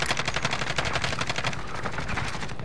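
Rapid automatic gunfire in a military shooter video game, a dense rattling stream of close shots that continues without a break, loud and near.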